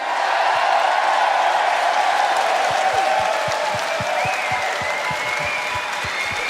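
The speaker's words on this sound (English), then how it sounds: "and renewed applause" A live show audience breaks into sustained, dense applause that holds steady for several seconds, with a faint crowd murmur mixed in and no voices talking over it.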